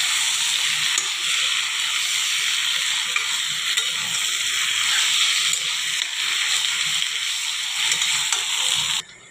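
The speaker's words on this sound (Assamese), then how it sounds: "মছলাটো মিক্স কৰি ভাজি থাকিম অলপ সময়।" Meat stirred into a spice paste with garlic and ginger paste and fried in a pan, giving a loud, continuous close sizzle with scraping stir noises throughout, cutting off abruptly at the end.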